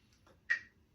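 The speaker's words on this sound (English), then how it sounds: "let's go ahead and put the metronome on. We'll put it on 60." A metronome set to 60 beats per minute for a beginner saxophone lesson gives a single sharp, bright tick with a brief ringing decay. It sounds alone and fairly close over a quiet room hum, with no talking.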